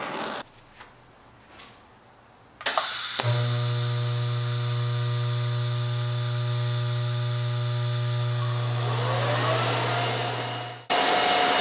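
Welding a second pass on a DIY budget LS turbo manifold: after brief clicks and rustling, a loud steady buzzing hum with a strong tonal drone runs for about eight seconds, then cuts off abruptly.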